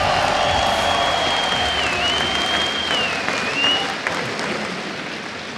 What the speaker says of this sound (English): The crowd is absolutely amazing